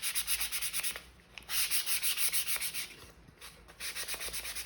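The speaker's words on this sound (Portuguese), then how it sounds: "Lixo a volta toda" Fine 400-grit sandpaper rubs by hand around the inside of a box, making steady rhythmic rasping strokes up close, with a short pause partway through before the scrubbing resumes, and no voice.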